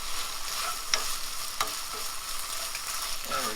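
Pineapple being stirred into mexi-corn frying in a pan, a steady broadband sizzle throughout with a few soft utensil scrapes and clicks, close and alone with no voices.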